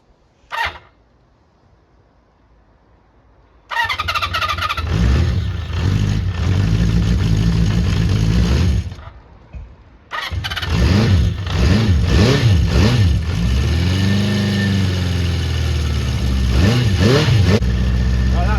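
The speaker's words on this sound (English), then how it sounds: "I'm going to run it, I'm just going to spray a bit of DC85 and see if it revs" A Honda CB400 Four engine coughs briefly, then starts and runs loud and close in freezing cold, revving up and down repeatedly, dropping out once before firing again and revving hard.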